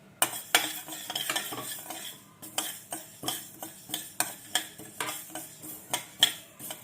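Mustard seeds are lightly roasted in a pan, heard as quiet, rhythmic scraping and clicking strokes of a spatula, repeating about twice a second over a faint crackle.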